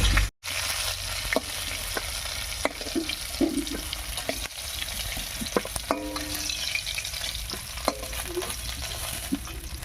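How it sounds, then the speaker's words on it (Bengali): Potatoes fry in oil already used for frying fish, giving a continuous close sizzle broken by frequent clinks and scrapes of stirring, after a brief dropout near the start. "মাছ ভাজার এই তেলের মধ্যে আলুটাও ভেজে নিচ্ছি"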